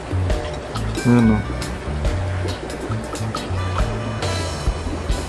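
An Amazon air pump drives air through an aquarium sponge filter, producing a continuous close bubbling and gurgling of water while someone talks over it.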